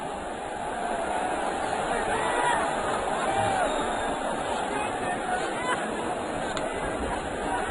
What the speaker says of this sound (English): Magnificent crowd. As we told you,